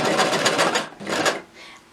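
A sewing machine runs a straight stitch to join the ends of elastic, giving two short bursts of loud, close whirring with a brief pause between them.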